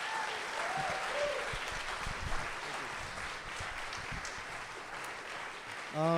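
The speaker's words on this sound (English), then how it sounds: "one more round of applause for Richard Rothstein" An audience at a talk on the history of government housing segregation gives a sustained round of applause for the author, a dense steady clapping that carries evenly to the end.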